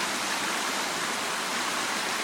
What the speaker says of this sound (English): watered by a million streams